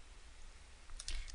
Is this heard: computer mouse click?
yes